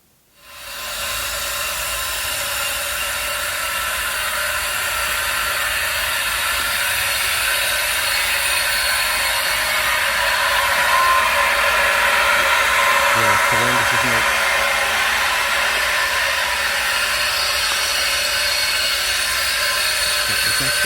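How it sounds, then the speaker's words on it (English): An industrial pipeline runs with a loud, constant broadband roar and hiss, undamped by any sound treatment, rising quickly from silence and holding steady for about twenty seconds with no pauses. "pipeline in action before our Les has gotten to damp it down in terms of noise"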